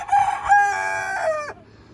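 A nearby rooster crows once, a loud, strained cock-a-doodle-doo lasting about a second and a half before cutting off into quiet.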